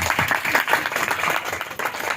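A church congregation claps and applauds loudly together at a worship service, a dense, continuous burst of hand claps with no voices over it.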